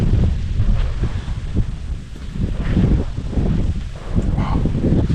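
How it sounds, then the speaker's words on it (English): Wind gusting outdoors in Tanzania, a steady broadband rush with rising and falling surges and buffeting against the microphone, loud and continuous throughout, with no voices. "Feel the wind blowing"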